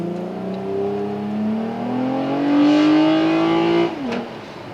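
A Toyota Camry TRD's engine revs up hard under acceleration, its pitch climbing steadily and loudly for several seconds before easing off abruptly as the throttle lifts.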